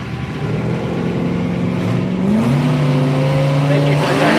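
A red Toyota Supra drag car accelerating hard at a street machine drag challenge, its engine tone climbing through a gear change with a loud, sustained roar and crowd noise and voices around it.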